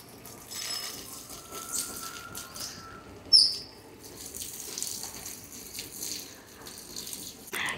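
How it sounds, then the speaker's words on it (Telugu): Rice being washed in water gives soft sloshing and faint rinsing splashes with a brief louder splash partway through, quiet and close in a kitchen. "ఇప్పుడు బియ్యం శుభ్రంగా 2 సార్లు కడుక్కొని పక్కన పెట్టుకుందామండి"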